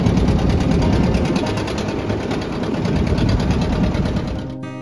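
A motor boat engine on the Ichamati river at Taki drones steadily and loudly with a rapid mechanical chatter throughout, dipping slightly toward the end, with no talking.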